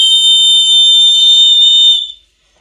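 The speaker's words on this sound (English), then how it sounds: "So that's a really nice little portable whistle that's really loud." A loud, shrill, steady blast from a small portable 3D printed whistle, holding a piercing tone for about two seconds before stopping abruptly into silence.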